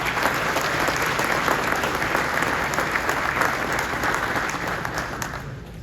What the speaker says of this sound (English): Let's please give these academic MVPs a big round of applause.